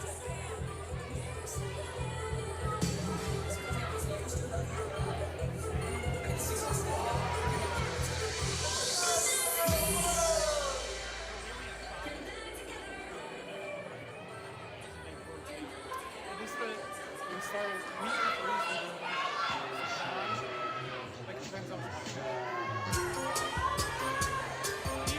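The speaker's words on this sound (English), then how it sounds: "Can hear teams cheering in the background" Gymnastics teams at a women's NCAA meet cheering and chattering in the background of a busy arena, a continuous crowd murmur with shouts, rising briefly to a loud swell before settling back.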